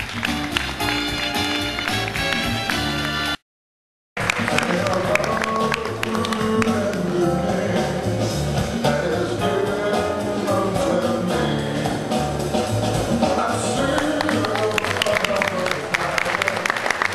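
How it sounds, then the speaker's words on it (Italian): A festival audience applauds a veteran Italian voice actress at the Acquafestival 2008 dubbing event. The dense, steady clapping continues for about seventeen seconds, with a brief gap near the start and faint tones mixed in. "dobbiamo dire grazie con questo applauso"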